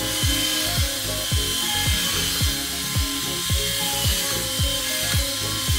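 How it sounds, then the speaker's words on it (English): An electric epilator whirs steadily against body hair, its motor droning close up with a rhythmic, roughly twice-per-second pulsing as it works over the skin. "Still, this epilator is working great on them."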